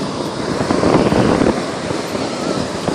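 Atlantic Ocean waves and surf wash in as a steady, broad roar, swelling briefly and then settling back into a continuous rush with some wind noise on the microphone.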